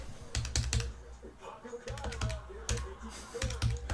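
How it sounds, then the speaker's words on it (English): Quick taps on calculator buttons while working out a price for a card-breaking sale, the close clicks coming in short bursts with brief pauses between them. "Just doing it in the calculator right now."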